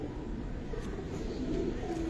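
Pigeons cooing in a home loft, a low steady murmur of soft coos that runs throughout, close by and fairly quiet, with a faint voice in the background.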